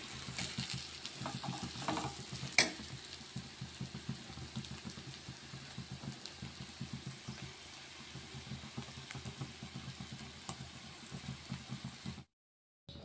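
Bitter gourd curry fries and is stirred in a pan, a steady crackling sizzle with soft scraping strokes throughout, one sharper clink early on, before the sound cuts off near the end.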